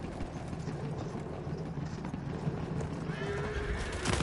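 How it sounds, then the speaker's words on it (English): A horse in the Battlefield 1 video game whinnies and its hooves clip-clop faintly, set against a dense rumbling battlefield background with a rising mechanical whine near the end. "Horse."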